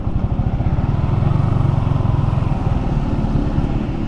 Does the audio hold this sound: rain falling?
no